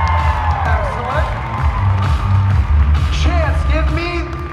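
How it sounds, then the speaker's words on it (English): Cheering, whoops and clapping rise from the audience at a cosplay contest, with voices shouting over a steady crowd roar that carries loud and continuous throughout. "Next round of applause"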